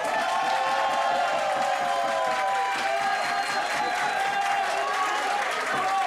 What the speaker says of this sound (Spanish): Que sean fuertes los aplausos para Omar Leiva.